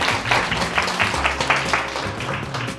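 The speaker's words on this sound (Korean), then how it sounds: "여러분, 큰 박수로 모셔보도록 하겠습니다." An audience applauds to welcome a volunteer onstage at a physics magic show held at a quantum nanoscience open lab. The clapping is short, loud and dense.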